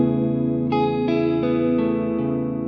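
Sustained ambient guitar chords run through a Strymon NightSky reverb pedal recorded in stereo, with a long shimmering wash as new chords enter about every third of a second to a second, loud and continuous with no talk.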